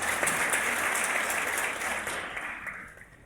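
An audience applauds steadily and warmly, a dense wash of clapping that holds for several seconds and then thins out and fades toward the end.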